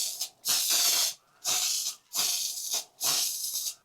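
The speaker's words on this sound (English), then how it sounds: "We're gonna give these a couple coats of this beautiful gold spray paint." A can of gold spray paint hisses in four bursts of about half a second to a second each, with short pauses between, close and loud, coating items for a thrift-store craft project.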